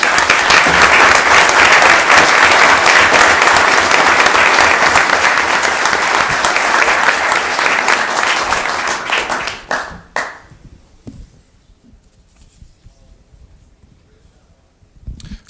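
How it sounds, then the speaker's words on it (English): A city council meeting room bursts into a long, loud round of applause for Life Flight helicopter crews, dense clapping filling about ten seconds before quickly fading to near silence with faint room noise. "a huge round of applause for them"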